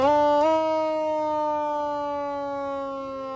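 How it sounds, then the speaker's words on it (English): A fire truck's front-mounted siren sounds a single steady, loud wailing tone that holds its pitch and slowly fades over a few seconds, with no talking. "that's the siren that's on the front of the fire"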